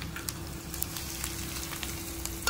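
Hot oil tempering with asafoetida poured over gongura chutney crackles and sizzles steadily, a close, even frying hiss with small pops scattered throughout and no talking.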